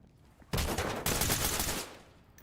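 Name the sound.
gunfire from a suspect shooting, video game Ready or Not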